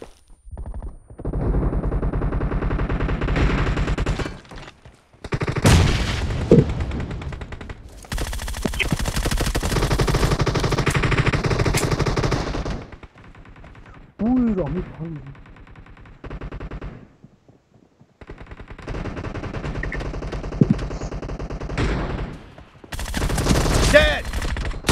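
Rapid bursts of automatic gunfire and single shots in a PUBG Mobile 8v8 match, loud and close, broken by short pauses, with game voice announcements and some speech in between.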